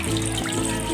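Water pours steadily into a cooking pot (casserole) for a tamarind shrimp soup, a continuous close splashing flow with no talking.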